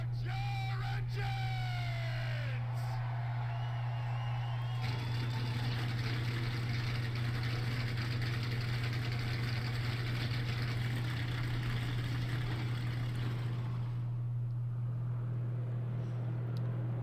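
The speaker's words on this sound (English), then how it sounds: "Drivers, start your engines!" Race cars in a sim racing game fire up for the finale at Chicagoland. A loud, constant engine drone runs throughout, with a few rising revs and a brief shout early on, before settling into a steady rumble.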